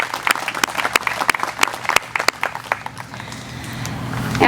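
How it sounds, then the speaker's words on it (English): Scattered, uneven clapping from a modest Australia Day ceremony crowd, individual claps distinct and sharp, thinning out and fading into room hum after a few seconds. "Let's give a round of applause for Piper Duck"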